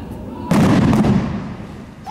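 On a Dead Rising: Watchtower zombie film set, a loud explosion bursts in suddenly with a deep rumbling roar that slowly fades, after a stretch of background noise.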